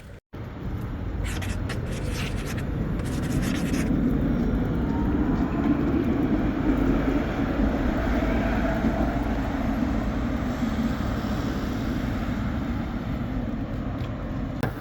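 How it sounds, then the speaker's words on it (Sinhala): A metro train in Europe running, heard from inside as a steady, loud rumbling roar with rattling, continuous throughout after a brief quiet start, with no talk. "අපි යන්න ඕනේ මෙට්‍රෝ එක ගන්න."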